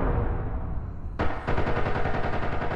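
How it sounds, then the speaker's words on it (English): A sudden loud blast in an audio drama breaks in over a dense, rumbling background, followed by a continuing burst of crackling, rapid impacts like gunfire and chaos that holds at full level to the end. "There's an explosion followed by chaos."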